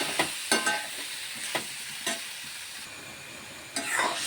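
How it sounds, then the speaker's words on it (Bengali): Spices including turmeric, cumin and chili powder sizzle in hot oil for an Bengali-style egg curry, with a steady frying hiss and several sharp scraping stirs of a spatula against the pan. "এবার আমি কষিয়ে নিচ্ছি"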